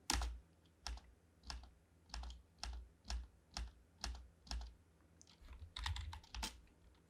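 Typing on a computer keyboard during coding setup, about a dozen distinct close key presses at a slow, fairly regular pace, faint and without talk.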